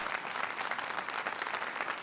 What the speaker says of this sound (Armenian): մի հատ բարձր ծափարենք